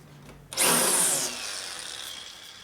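Corded drill with a spin-on chuck boring a hole in a workshop, a sudden close whirring burst that eases into a steady grind and continues under a fading hiss.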